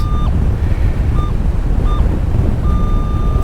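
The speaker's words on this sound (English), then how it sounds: "Thought I'd turn around a bit so I'm not so in the wind" Gusty wind buffets the microphone on West Beach in South Australia, a heavy low roar throughout, while a metal detector chirps a few short, high electronic beeps.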